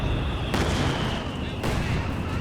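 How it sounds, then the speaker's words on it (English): Delayed-fuse artillery barrage in Company of Heroes 2, two broad booming impacts about a second apart over a constant roar of battle noise. "Delayed fuse barrage."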